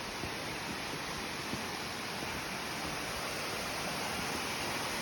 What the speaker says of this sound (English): Well, this is the waterfall.